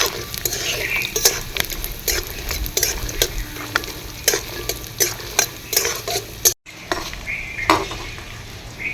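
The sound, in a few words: peanuts and cashews frying together in a pan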